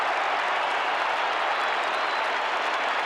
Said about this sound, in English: And the Magpie crowd behind the goal likes it.